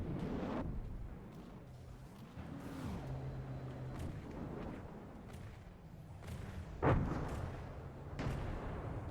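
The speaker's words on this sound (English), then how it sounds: "barrage of missiles coming." Missile barrage explosions from the naval combat game From the Depths: a busy rumbling mix of blasts and impacts, with one sharp, louder burst near the end and steady battle noise throughout, no voices.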